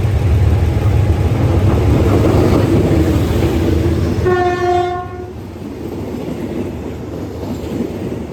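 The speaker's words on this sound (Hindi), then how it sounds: "अभी हमारी ट्रेन दोस्तों रिवर क्वाई जो रेलवे स्टेशन है वहाँ पे रुकी हुई है" A passenger train on the Death Railway toward River Kwai rumbles loudly along the track, then sounds one sustained horn blast partway through before the rolling noise eases.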